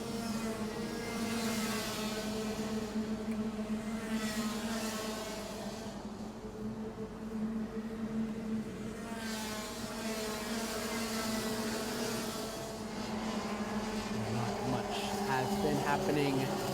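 Rotax Max Senior go-karts racing at a Rotax Max Challenge Thailand round, their small two-stroke engines droning steadily from mid-distance as the pack passes, with engine pitch rising and falling and a commentator talking over the noise.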